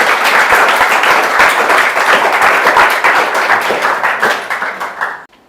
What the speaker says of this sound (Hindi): तो एक बार अपने लिए तो ताली बजा लीजिए